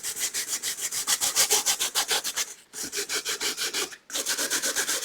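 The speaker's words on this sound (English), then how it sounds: "you can sand the surface a tiny bit to get rid of" A sanding pad rubs across glossy cardboard in quick rhythmic back-and-forth strokes, close and crisp, with two brief pauses between runs of strokes.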